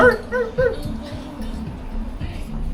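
A dog yips and whimpers in a few short high bursts near the start, followed by muffled low sounds and background noise.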